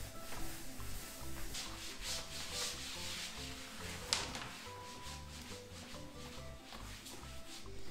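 Wiping a kitchen surface clean after spraying it with vinegar, a steady soft rubbing and scrubbing that continues in repeated strokes, close and moderately quiet, with one brief sharp tap partway through.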